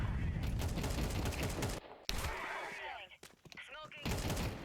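Rapid bursts of Counter-Strike 2 gunfire crack through a duel on de_ancient, loud rattling volleys broken by brief silent gaps, then a final burst.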